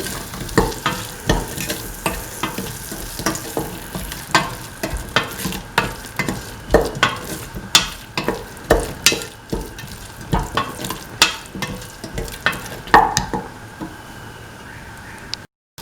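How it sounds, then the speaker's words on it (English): A spinach and potato mixture is sautéed and stirred in a pan, with rhythmic, regular spatula strokes scraping the metal over a continuous low sizzle. The strokes are close and evenly paced, and they stop abruptly at the end. "Saute mix thoroughly."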